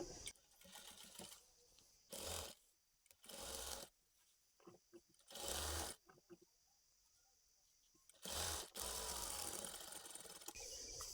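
A sewing machine stitches a double-folded seam on a half-collar uniform dress, running in several loud, steady bursts of a few seconds each, separated by quiet pauses.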